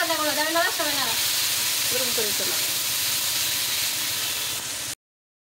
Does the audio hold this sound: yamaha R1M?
no